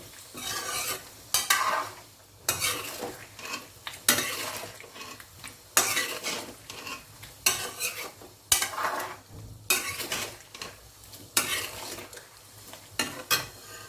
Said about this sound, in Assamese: এইখিনি মই প্ৰায় 3 মিনিটমান সময় ভাজি ল'ম মছলাখিনিৰ সৈতে যাতে ৰঙালাওটো অকণমান সিজি যায়